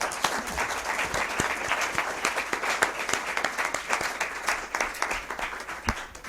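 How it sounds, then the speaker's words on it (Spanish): Indoor audience applause at a Spanish art event unveiling a newly discovered Caravaggio painting, steady dense clapping from a seated crowd lasting throughout, moderately loud with no speech over it. "Pues nada, un aplauso otra vez."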